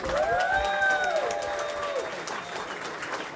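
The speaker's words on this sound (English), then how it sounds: "applause for Miss Olivia Martinez" Applause rings out for graduation speaker Miss Olivia Martinez at a Southern California commencement ceremony, a steady crowd clapping held at moderate level for a few seconds, with cheering voices and whistle-like tones rising over it.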